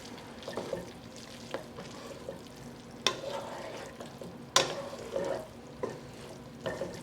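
Pasta tossed and stirred through sauce in a pan, with a soft continuous sizzle and scraping, punctuated by a few sharper clanks of utensil against the pan.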